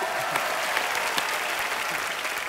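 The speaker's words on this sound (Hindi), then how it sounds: "गोविंदा सर के लिए जोरदार तालियां हो जाए" Studio audience applause greeting a guest on a Hindi TV show: dense, steady clapping throughout, loud and close, with no talk over it.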